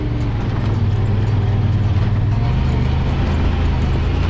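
A 2022 Honda Pioneer 1000 side-by-side UTV drives a wooded trail, its engine a loud, steady, close low-pitched drone with a continuous rumble and no break.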